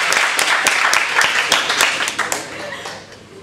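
An audience at a university debate keeps clapping, a loud burst of hands with distinct sharp claps that gradually thins and fades toward the end.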